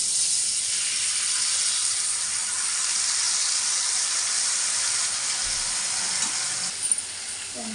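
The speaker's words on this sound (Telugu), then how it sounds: "చింతపండు పులుపు వేస్తున్నాను" Tamarind juice poured into a hot pan of oil and ghee for pulihora, giving a steady loud hissing sizzle that keeps on without a break and eases slightly toward the end.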